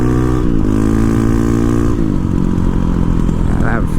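A Honda CRF450RL dirt bike engine revs hard and loud during a wheelie, its pitch climbing, dipping briefly and rising again, close to the microphone.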